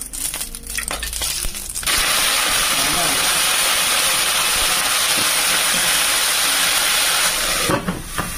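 Scallop shells browning in oil in a hot pan, a loud continuous hissing sizzle that starts abruptly and holds steady, with a voice talking before it begins.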